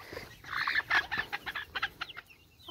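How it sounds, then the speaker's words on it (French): Chocolate-coloured hens clucking and squawking in quick agitated bursts as they squabble, close by, with several overlapping calls before fading to quieter clucks. "deux poules choco qui se fritent"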